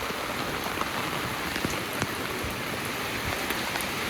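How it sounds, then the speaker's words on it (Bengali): Heavy rain pours steadily onto a surface outdoors, a dense, continuous wash of falling drops with occasional sharper drip hits, no voices over it. "হাই রে বৃষ্টি খুবই বৃষ্টি হচ্ছে"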